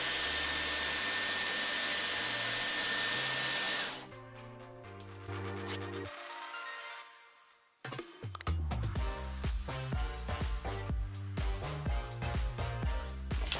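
A Dyson Airwrap blows hot air on its high heat setting, a loud steady rushing whir for several seconds. It then drops away, and music takes over.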